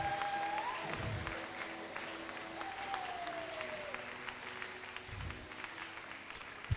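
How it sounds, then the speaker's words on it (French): A church congregation at a French-language worship service applauds and cheers loudly for the Lord, steady crowd clapping filling the room throughout, with a few brief voices and tones rising over it. "encore acclamer très fort pour le Seigneur des Seigneurs"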